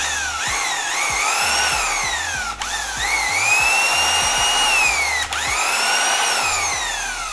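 A Makita electric power tool runs in a trigger function test, its motor whining loudly and continuously with repeated speed ramps up and down and two brief cut-outs.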